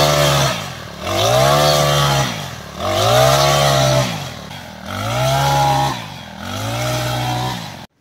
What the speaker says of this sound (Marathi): ही ग्रास कटर मशीन आहे जी आता मी उचलून वापरणार आहे